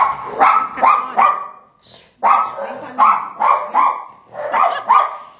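Dogs bark in quick, repeated bursts, loud and close, with sharp clustered yaps and a short pause in between.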